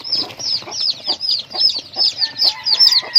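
Chickens in a chick nursery pen give a quick, even series of high peeps and clucks, close and fairly loud, with no voices.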